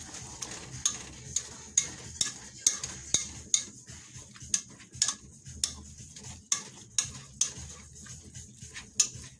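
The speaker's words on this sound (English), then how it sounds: "Now, I'm going to mix and smash" A utensil mixing and smashing Spanish sauce ingredients with undrained hamburger grease in a pan, faint, regular metallic clacks and taps roughly every half second over a soft scraping bed.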